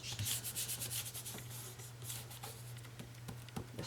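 Paper rubbed by hand across the back of a small glued cut-paper piece for a reindeer garland craft, giving a soft continuous close scuffing with a steady low hum beneath.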